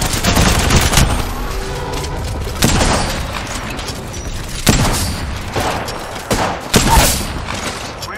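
Repeated bursts of automatic gunfire from an Apex Legends fight, loud and close, arriving in sharp volleys every couple of seconds with mechanical clatter between them.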